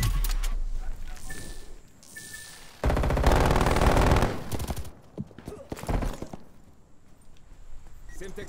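Bursts of automatic gunfire ring out in a Call of Duty: Black Ops Cold War co-op match against bots, including a long sustained volley in the middle, with a player's voice talking over parts of it.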